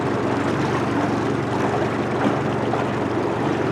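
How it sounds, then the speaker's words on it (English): A 20 horsepower outboard engine pushes a fishing boat across Florida coastal water, giving a loud, steady broadband drone that holds without a break for the whole stretch. No one speaks. "And again, listen to this engine. Simplicity is a 20 horsepower engine."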